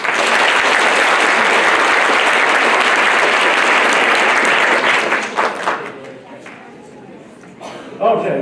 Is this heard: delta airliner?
no